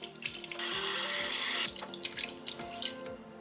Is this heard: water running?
yes